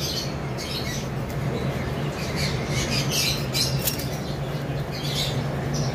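An adult male-and-female pair of heavy pied pet birds for sale, giving repeated harsh squawks and chirps close by over a steady hiss of background noise, with no talking.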